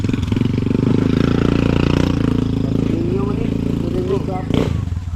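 A motorcycle engine drones steadily close by, with a rising rev near the end, heard beneath people talking.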